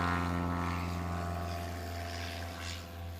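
A Scout light aircraft accelerates on its takeoff roll, a steady droning engine hum with a low buzzing tone, moderately distant and fairly faint.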